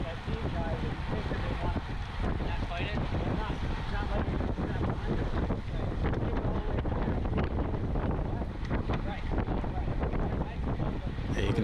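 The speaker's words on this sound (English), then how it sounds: "It was a pretty windy day." Strong wind buffets a sailboat racing on a windy day at Langford, a constant loud rushing roar with heavy gusty microphone noise throughout and no clear speech.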